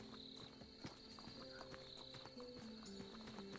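Horse hooves clip-clop in a steady walking rhythm inside the Tavern Manager Simulator game, moderately close and fairly quiet, with a faint high tone and other game sounds running underneath.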